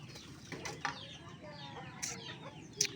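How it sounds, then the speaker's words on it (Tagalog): A young paddy-field bird that looks like a chicken gives short, sharp chirping calls at intervals over a steady outdoor background hiss, with a few faint flutters in between. "Akalain mong manok to. Pero ano to, ibong palayan."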